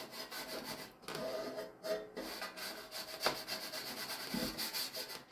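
Cloth rubbing light wax onto a vintage metal fuel can, soft repeated swishing strokes in an uneven rhythm, close and fairly quiet, with no talking.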